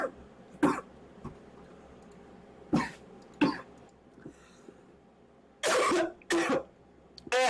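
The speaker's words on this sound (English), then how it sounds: "Dying over here from coughing on water" Harsh coughing fits after choking on water, several loud bursts spread over a few seconds, the last ones heavy and prolonged, heard close up with a quiet background between them.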